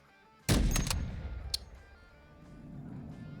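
Gunfire in a multiplayer shooter video game: a loud, close burst of several rapid shots, then a single sharper crack about a second later, trailing into a low rumbling tail, with no talking.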